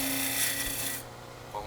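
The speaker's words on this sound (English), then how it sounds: "Let's see how many cuts it takes with the bowl gouge." A bowl gouge cuts wood on a spinning lathe, giving a brief close rasping scrape that stops after about a second, leaving faint hum and light handling noise.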